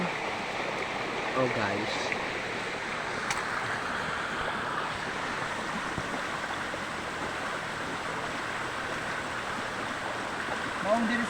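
A stream flows steadily in an outdoor setting, its broad rushing wash continuous throughout, with a brief spoken exclamation near the start.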